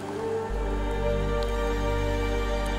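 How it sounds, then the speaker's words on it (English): A siren in the horror video game Maid of Sker sets in abruptly and holds as a loud, steady, tonal drone with layered harmonics, alone and without talk. "no, that's a siren"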